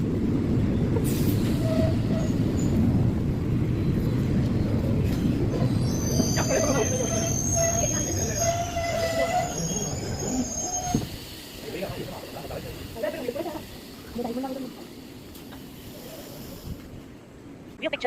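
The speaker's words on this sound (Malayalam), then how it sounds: "ട്രെയിൻ അങ്കമാടി റെയിൽവേ സ്റ്റേഷനിലേക്ക് എത്തിച്ചപ്പോഴേക്കാണ് ഞാനിവിടെ ഇറങ്ങുകയാണ്" The Malabar Express rumbles heavily into Angamaly railway station, then slows with metallic wheel squeals and clanks as it comes to a halt; a voice speaks over the noise.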